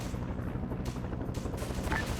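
Distant gunfire and incoming rounds rumble through an Arma Vietnam Zeus operation, a steady low roar of overlapping shots and muffled impacts with no sharp, close blasts.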